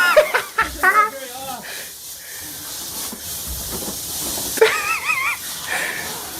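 Water sprays steadily from a broken sink in a bathroom, a continuous close hiss running the whole time under excited, shouting voices.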